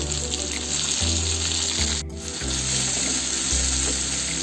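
Tomatoes, fennel, cumin and pepper fry in a pan for crab gravy, a loud continuous sizzling hiss with watery bubbling, a brief break midway, then the steady frying resumes close up without speech.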